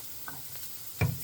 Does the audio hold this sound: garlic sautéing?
yes